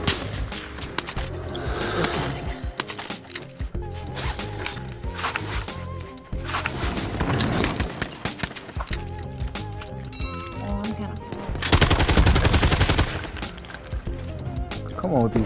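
Gunfire in the PS5 game Call of Duty: Warzone, with repeated sharp metallic shots and clinks over dense game sound and music. Fire comes at an irregular pace and swells louder near the end while a player talks.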